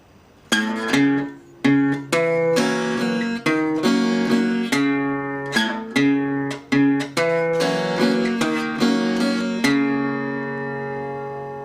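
A country blues guitar verse in the Delta style, with plucked notes and chords ringing in a steady repeating pattern, clear and close with no voice.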